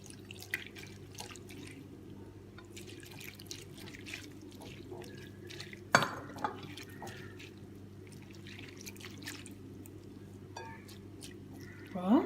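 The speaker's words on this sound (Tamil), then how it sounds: "இப்போ இதில் நம்ம கொஞ்சம் தண்ணி விடணும்." Water is added to salted vegetables in a bowl while making a hotel-style curd raita, giving soft drips and small splashes at close range over a quiet room hum.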